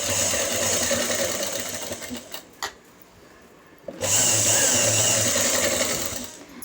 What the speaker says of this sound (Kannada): ಸೈಡಲ್ಲಿ ಸ್ಟಿಚ್ ಹಾಕ್ತಿದ್ದೇನೆ